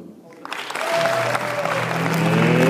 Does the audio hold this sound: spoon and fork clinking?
no